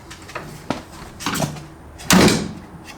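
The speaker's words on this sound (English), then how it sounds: "Shut the bonnet, put the straps on" Bonnet of a Mini being shut in a workshop, a few light knocks and rattles followed by a louder closing thud near the end, close by.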